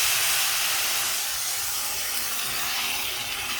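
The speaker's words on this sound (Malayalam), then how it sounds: "ഇനി നമുക്ക് വെള്ളം ചേർത്ത് കൊടുക്കാം." Water poured into a hot pan of roasted broken wheat sets off a loud, continuous steamy hiss that fades only slightly over a few seconds, close and with no voices.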